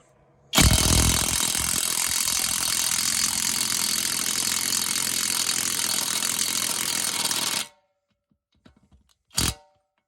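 A Profi-tec DTW-800BL impact wrench on a rusty nut runs as one loud continuous burst for about seven seconds, then stops abruptly, followed by a short sharp mechanical noise after a pause.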